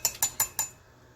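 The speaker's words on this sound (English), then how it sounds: "So scoop 2 scoops out of there." A spoon scooping yogurt starter from a container makes four quick, bright metallic clinks in an even rhythm, close and clear, then stops.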